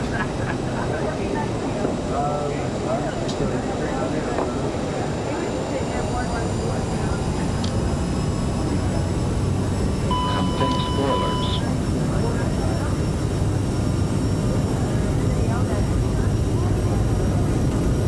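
Twin jet engines of a CEMAIR CRJ900 airliner in Microsoft Flight Simulator 2020 hold a loud, steady roar at takeoff thrust with continuous broadband rumble and a faint high whine, while pilots talk over it.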